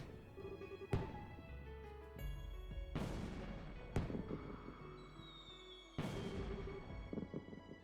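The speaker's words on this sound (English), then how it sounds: "Interrupted by fireworks." Fireworks in the video game Trails in the Sky the 3rd: four sharp bursts at irregular intervals, each decaying into a crackle over a quiet background with soft game music.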